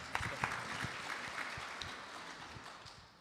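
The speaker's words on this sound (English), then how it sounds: "Please give him a round of applause, everyone." A satsang gathering at a birthday celebration applauds to welcome a pandit, a steady but fairly soft wash of clapping with a few sharper claps standing out near the start.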